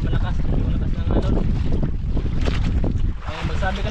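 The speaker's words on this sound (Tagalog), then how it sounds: "Kuha na malakas ng alon." Strong waves slosh and crash around a small fishing boat at sea, a dense, loud rush of water and wind buffeting the microphone, with people talking underneath.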